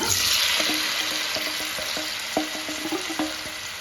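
Roughly chopped tomatoes, four of them, frying in a pan over a medium gas flame for a tomato mint chutney, giving a steady close hiss with a few light scraping taps of a spoon, no voices.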